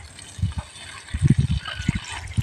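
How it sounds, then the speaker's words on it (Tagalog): Strong water flow from a solar-powered pump on a DIY tilapia farm setup, gushing and splashing in uneven surges over a steady rushing background. "So yan, yung flow ng tubig malakas."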